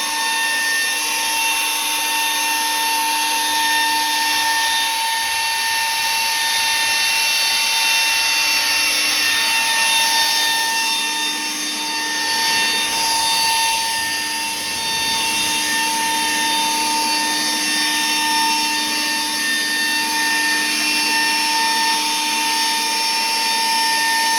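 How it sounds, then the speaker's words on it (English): Leaf blower or snow blower blowing air over a tomato bed to pollinate the plants. A loud, steady whine with a broad rush of air holds for the whole stretch, dipping briefly midway, close by with no talk. "take a leaf blower or to take a snow blower, and then you step back like this, turn it on"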